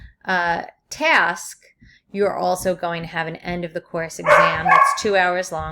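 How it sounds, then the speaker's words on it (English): A dog barks a few times in a home during an online computer science class, short yaps breaking through a teacher's continuous lecturing. "Sorry about my dog."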